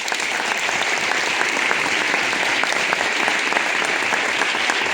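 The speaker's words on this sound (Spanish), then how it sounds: "pido un fuerte aplauso para el Ayuntamiento de Jaraíz y para todos sus vecinos" A crowd applauds the Jaraíz town council at a karate awards gala in Extremadura, with dense, sustained clapping filling a hall at steady loudness.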